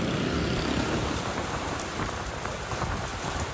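Heavy monsoon rain pours down over Quezon City, a dense, steady roar of downpour hitting surfaces with no pause across the whole stretch, no voices present.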